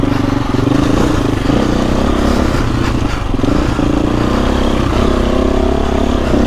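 A 2024 KTM EXC-F 350 enduro motorcycle is ridden on hard enduro terrain, its engine droning loudly and continuously close by with rising and falling revs and some clatter.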